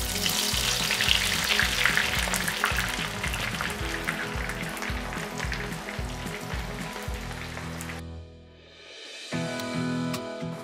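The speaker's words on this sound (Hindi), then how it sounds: "इसनों असीं डीप फ्राई करांगे प्याजां नूं।" Long-sliced onions deep frying in hot oil, a loud dense sizzle and bubbling that runs steadily for about eight seconds, drops away briefly, then returns, heard close with no voices.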